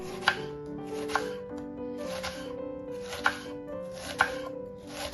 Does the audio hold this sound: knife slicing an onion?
yes